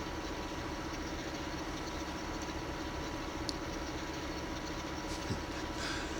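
A tractor towing a small hay tedder in Farming Simulator 15 gives a steady, low engine drone that holds evenly throughout, with faint clicks on top and no voices.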